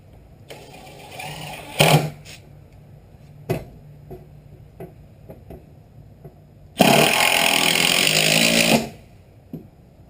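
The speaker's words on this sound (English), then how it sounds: "all I'm doing right here is just driving in a couple screws" A power drill drives screws into bowed plywood during a cabin build, with two short whirring bursts early, one longer sustained drive near the end, and scattered small clicks and knocks between.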